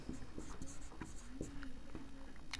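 Pen writing on paper during a class 10 maths lesson, a steady scratchy scribble of short strokes with brief taps, close and fairly loud, with no talking.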